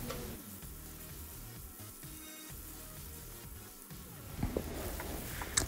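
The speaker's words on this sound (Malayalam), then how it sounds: "എണ്ണ ചൂടാക്കിയിട്ട് സവാള നല്ല സോഫ്റ്റും ഒരു ഗോൾഡൻ ലൈറ്റ് ഗോൾഡൻ ബ്രൗൺ ആവുന്ന വരെ സവാള നന്നായിട്ട് വഴറ്റണം" Chopped onions sautéing in hot oil in a single pot for a mince and peas dish, giving a steady, moderate sizzle and crackle throughout with a few louder spits toward the end.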